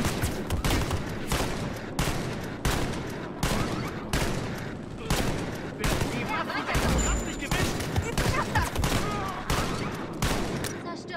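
Continuous rapid gunfire from the video game Wolfenstein Youngblood, dense machine-gun bursts and shots filling the whole stretch at steady loudness.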